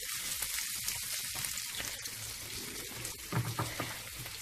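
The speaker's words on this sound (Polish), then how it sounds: "Jeszcze ją przyrumienimy bardziej, żeby ta kiełbaska nadała smak" Sausage (kiełbasa) sizzles and crackles steadily in a hot pan while browning for żurek soup, a close, continuous frying hiss with a few louder pops and scrapes toward the end.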